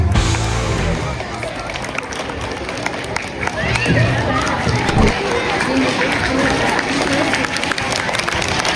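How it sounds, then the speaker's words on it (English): A crowd at a school felicitation ceremony applauds students called up to the stage, steady clapping mixed with chatter and movement, moderately loud and continuous. "Please come on the stage, give them a huge round of applause"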